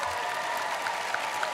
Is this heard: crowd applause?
yes